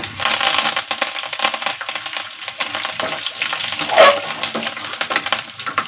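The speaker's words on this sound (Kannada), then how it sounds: "ಈ ರೀತಿಯಾಗಿ ಕೆಂಪುಗಾಗಿ ಚಟಪಟ ಅಂತ ಕುಡಿಯುವಾಗ ನಾವು ಕರಿಬೇವನ್ನು ಹಾಕಬೇಕು" Curry leaves dropped into hot oil with spluttering cumin and mustard seeds for fried rice: a loud, dense, continuous crackle and sizzle right up close, with no talking.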